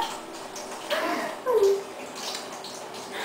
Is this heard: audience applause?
no